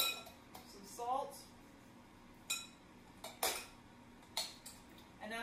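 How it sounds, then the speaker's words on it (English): Metal utensils clink against a bowl while lime juice, oil and salt are mixed together, several sharp scrapes and taps arriving at irregular intervals, close and fairly clear. "And I'm just mixing this up."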